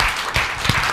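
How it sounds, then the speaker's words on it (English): A business mixer audience claps in a short, full burst of applause, with dense hand claps and a few louder spikes, close and continuous with no clear talk. "Can we have a big round of applause for Matt and"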